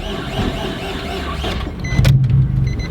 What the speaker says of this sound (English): Did I blow the motor? That's like cranking really slow.